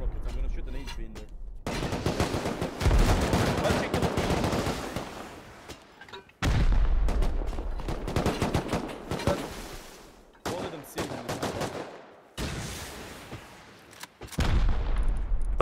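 Rust firefight with rapid automatic gunfire and heavy blasts, loud bursts in long stretches broken by short pauses, close and harsh, with players talking in between.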